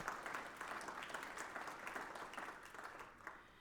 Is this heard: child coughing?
no